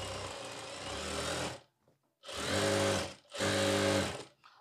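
A sewing machine stitches a border onto a kameez in three bursts, the first long and two shorter, with a steady rapid mechanical whir and brief pauses between runs.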